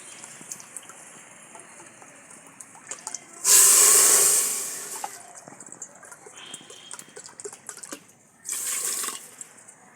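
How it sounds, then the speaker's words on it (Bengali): Water poured from a bowl into a pressure cooker with sugar in it, two splashing pours a few seconds apart, close up against quiet kitchen background noise. "আর জল দেবো 2 বাটি।"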